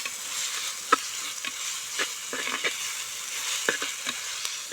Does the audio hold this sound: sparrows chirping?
no